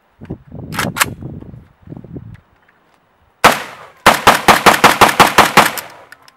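An AK-47 fitted with a muzzle brake fires at a target outdoors. One loud shot is followed by a rapid string of about a dozen sharp reports, and a few muffled thumps come first.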